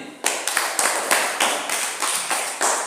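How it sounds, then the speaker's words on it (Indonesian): A classroom group claps for a student in a quick, regular patterned rhythm, each loud burst of hands landing together in a steady beat for about three seconds. "kita beri tepuk tangan untuk si Nani ini"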